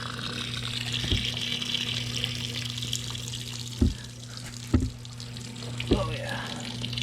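Water runs steadily from a freshly unclogged AC condensate drain on an air handler, a constant watery wash over a low hum, with a few sharp knocks and someone talking briefly.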